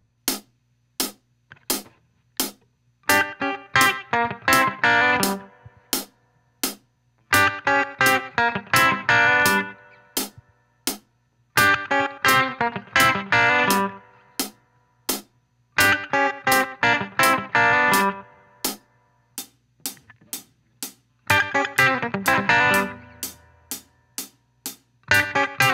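Chicken pickin' electric guitar lick with a hammer-on, played as a repeated phrase several times with pauses between runs, crisp snapped notes with a distorted, effected tone over steady clicking percussion.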